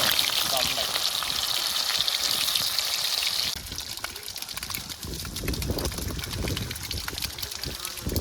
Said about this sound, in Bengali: চল তাহলে এঁচড়গুলো ভেজে নিচ্ছি